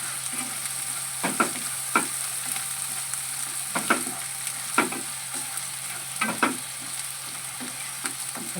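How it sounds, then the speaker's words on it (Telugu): Ginger garlic paste with green chillies frying in a pan for an aubergine, pea and tomato curry, a steady soft sizzle broken by a few sharp spoon scrapes and stirs, no talking. "అల్లం వెల్లుల్లి పేస్ట్ కూడా పచ్చివాసన పోయేంత వరకు ఫ్రై చేసుకుని"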